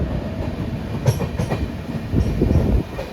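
A train pulling out of Santragachi Junction station in India, heard from on board as a steady, loud rumble with rhythmic wheel clatter over the rails and no voices.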